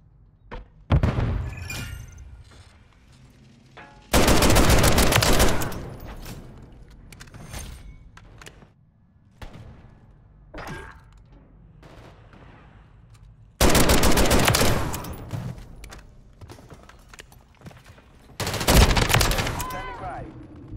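Bursts of automatic fire from the JAK Jawbreaker, a 20-round-magazine rifle in a video game, ripping out in several loud sustained volleys separated by quieter gaps with scattered single shots and thuds.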